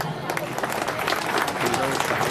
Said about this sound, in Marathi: तुम्ही स्वतःसाठी एकदा जोरात टाळ्या वाजवायचे